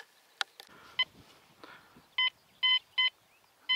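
A metal detector sweeping a sown field near an abandoned house gives a run of short electronic beeps: scattered faint blips at first, then four or five louder, steady tones in quick succession.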